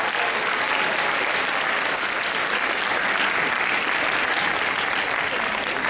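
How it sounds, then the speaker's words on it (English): A hall full of pupils and staff applauds after the inter-house debate finals, producing a thick, unbroken wash of clapping that stays loud and steady for several seconds. "Big round of applause."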